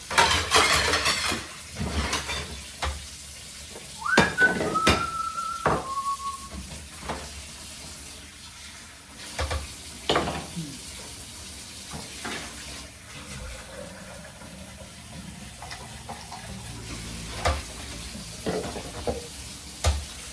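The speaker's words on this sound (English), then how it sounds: "I like giving everything a little rinse first before actually washing it" Dishes get a quick rinse under a running tap, with intermittent splashing, clinks and bursts of water that come and go at close range against quiet pauses.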